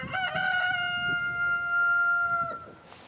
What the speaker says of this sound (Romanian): Vezi bine că e de acord și cocoșul.